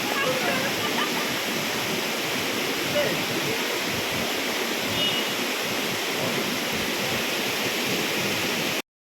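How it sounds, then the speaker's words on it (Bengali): Kanchenjunga waterfall in Sikkim roars as a steady, broad rush of falling water, loud and unbroken throughout, close by with no letup. "তো এখন যাব আমরা হচ্ছে কাঞ্চনজঙ্ঘার ওয়াটারফলে"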